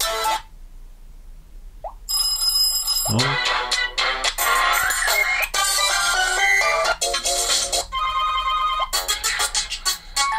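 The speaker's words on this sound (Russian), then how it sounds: "Что за рингтоны у нас" Ringtones played in succession on a Jeasung A2 mobile phone, bright electronic melodies and beeping tones changing every second or two, with a brief spoken word between them.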